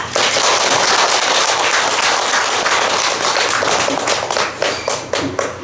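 Audience applause welcoming a professor to the front at a Buddhist Dharma meeting with a Thai Dhammakaya monk, dense and loud clapping throughout that thins into scattered claps near the end.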